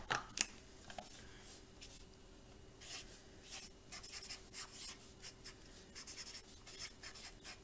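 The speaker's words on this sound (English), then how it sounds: "I'm going to grab a sheet of paper and write down just a few things" A pen writing on a sheet of paper, close and quiet scratchy strokes in irregular short bursts, with small rustles of the page and no talking.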